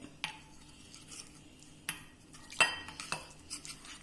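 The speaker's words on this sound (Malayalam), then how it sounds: "ഇത് ഒന്ന് വെള്ളത്തിൽ കുഴച്ചു വയ്ക്കണം" A spoon scrapes and clinks against a bowl in a few short, quiet strokes while fenugreek powder is worked into a paste with boiled, cooled water for mango pickle.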